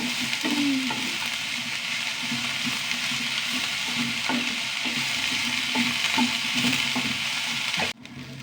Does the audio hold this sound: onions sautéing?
yes